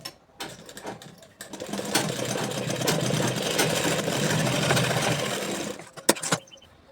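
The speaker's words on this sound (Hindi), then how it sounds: "अब हम ये बॉटम को फोल्ड करेंगे, टॉक स्टिच कर देना है।" A sewing machine runs a continuous straight stitch along the folded hem of men's cotton underwear, a steady close whirring hum lasting several seconds before it stops with a few clicks.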